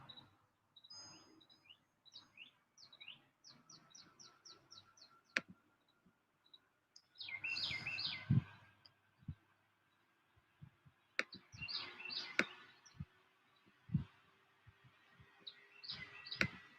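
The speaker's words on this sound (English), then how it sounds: "Hear that nice bird?" A songbird sings outdoors in a run of quick, bright chirps and clicking notes in separate bursts, fairly faint against a quiet background with some low rumble.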